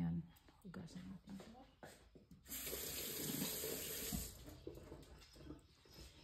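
Running tap water at a kitchen sink while salad vegetables are rinsed, a steady close gush with splashing and handling noises, with someone speaking intermittently over it.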